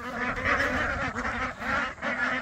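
Domestic ducks on a homestead farm give a steady run of overlapping quacks and honking calls, close by and fairly loud, with no talking.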